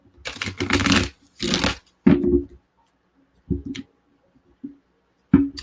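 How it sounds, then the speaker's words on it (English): Tarot cards are shuffled by hand in several short riffling bursts, separated by quiet pauses and a few softer taps, close up and with no one talking. "I don't know why I'm shuffling again"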